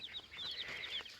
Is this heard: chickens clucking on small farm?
yes